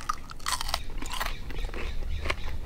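Close, crisp crunching and chewing of candied thick-cut bacon cooked over a campfire with syrup, brown sugar and cayenne, a few sharp bites followed by steady mastication.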